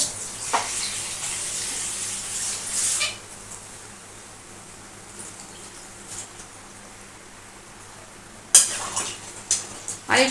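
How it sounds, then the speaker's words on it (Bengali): Water poured into a pan of simmering soybean, potato and pointed gourd curry gives a steady hissing rush for a few seconds. It settles into a quiet simmer, then utensils clatter against the pan near the end. "আমি পরিমাণ মতো জলটা আমি এর মধ্যে দিয়ে দেবো।"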